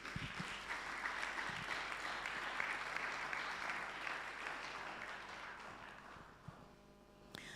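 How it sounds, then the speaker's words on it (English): Sustained applause from a large audience at a plenary session of a conference, steady and dense for several seconds before tapering off near the end. "Shall we clap for them as they come to the stage?"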